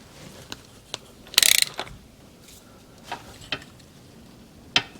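A ratchet tightens a piece on a 1975 Suzuki TS250 engine case, giving a short, loud run of rapid clicks with scattered single metallic ticks before and after.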